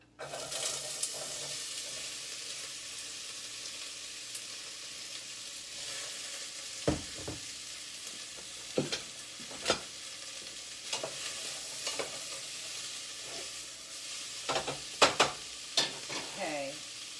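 Chopped onions frying in canola oil in a pan over medium-low heat, a constant sizzle with sharp scraping and stirring knocks that come more often toward the end, with no voices.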